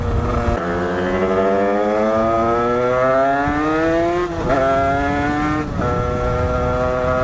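A scooter fitted with a Doppler Vortex exhaust pipe runs steadily close by, its engine note rising gradually as it revs, with brief dips where the throttle shifts.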